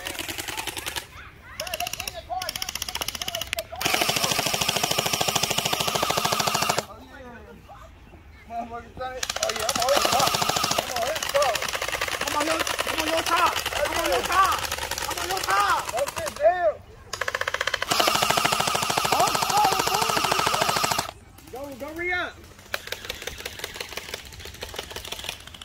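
Gel blasters fire in rapid bursts during a family backyard gel blaster battle, dense stretches of fast mechanical rattling broken by short pauses, with voices talking and calling out between volleys.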